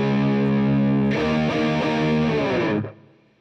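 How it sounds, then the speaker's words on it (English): Electric guitar on the bridge pickup through a Boss DS-1 pedal with Monte Allums Tri Roxx Plus mod, distortion fully up: a loud saturated sustained chord, then a few re-struck chords ringing before cutting off. "that's the bridge pickup with the distortion cranked all the way up"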